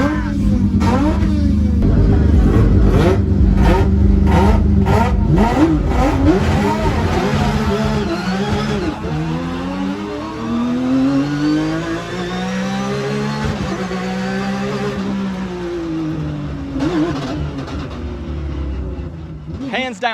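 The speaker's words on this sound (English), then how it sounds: "I'm going for a ride in the GT3 Cup car." A GT3 Cup race car engine revs loud and close, its pitch rising and falling through repeated gear changes and sustained acceleration, with the driving roar continuous for the whole stretch during a ride at a Thailand motorsport event.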